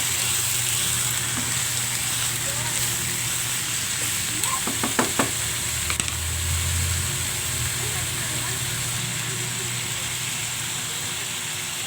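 Steady sizzling and frying hiss from a cooking pot as chicken for a nilaga-style dish goes in, with a brief cluster of clatter midway and a voice speaking faintly over the sizzle.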